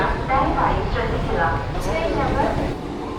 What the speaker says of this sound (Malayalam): അപ്പോൾ നമുക്ക് പോകാനുള്ള വണ്ടി വന്നു. ICF മെമു ആണ്.